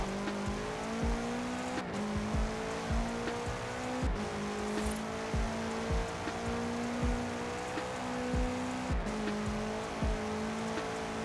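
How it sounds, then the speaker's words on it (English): A Meyers Manx dune buggy drives in Forza Horizon 4, its engine droning loudly and steadily with repeated revving rises and drops at each gear shift, heard alone and close. "Then test the Dune buggy we will."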